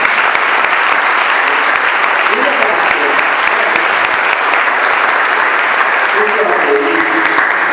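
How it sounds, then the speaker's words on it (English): A large audience applauds a volunteer events committee at the YMCA Fall River ribbon-cutting ceremony, with dense, steady clapping that stays loud and even from start to finish. "Give them a round of applause."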